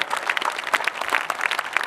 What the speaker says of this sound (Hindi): तालियां कम मत कीजिए साहब